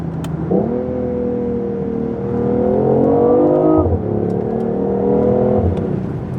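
A BMW i8 accelerates hard, its engine note climbing in pitch, dipping briefly, then rising again in a loud, steady, close-up drone with no talk over it.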